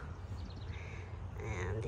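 A crow cawing outdoors in a residential subdivision, a few harsh calls at moderate distance heard beneath steady background noise and nearby voices.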